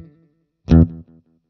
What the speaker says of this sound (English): Let me increase the reverb a little bit because I like reverb.